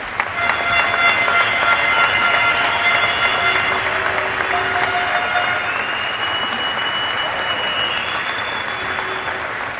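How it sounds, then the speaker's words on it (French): Sustained audience applause at a hockey ceremony honouring a player, dense and loud clapping throughout with a few whistles and crowd cheers rising above it. "ça vaut une bonne main d'applaudissements"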